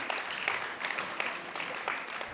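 An audience at a Kapasan Dussehra fair poetry gathering claps briefly, a light, fairly distant patter of hands with a few sharper claps rising above it.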